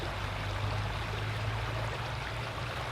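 Sligo Creek runs in a steady, even rush of flowing water, close and continuous with no breaks, heard alone outdoors in nature.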